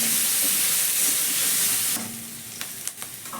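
Chopped vegetables and green chili fry in a pan with a steady, close sizzling hiss that thins out midway, followed by a few sharp clicks and taps of stirring.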